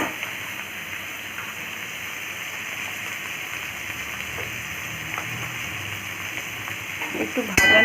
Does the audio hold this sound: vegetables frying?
yes